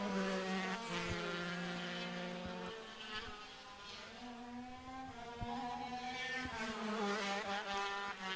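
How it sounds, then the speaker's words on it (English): Superkart engines scream around the Nutts Corner kart circuit during the Superkarts final, high revving tones rising and falling steadily as the karts pass, fairly distant, with no talking. "Even as it flies past us, the sound of Brian Jones's engine just so crisp"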